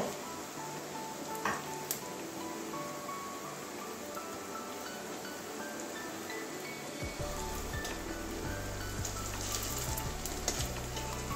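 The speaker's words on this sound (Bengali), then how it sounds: "এই দিকটা ভাজা হয়ে যাচ্ছে, এই দিকটা উল্টে দিচ্ছি।" Steady crackling sizzle of banana flower fritters frying in hot oil, broadband and continuous, with a low rumble joining partway through; no voices.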